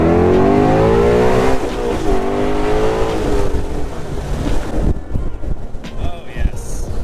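A 2018 Ford Mustang Shelby GT350 accelerates hard, its engine note climbing loud and close, then wind roar and road noise take over as the car pulls away.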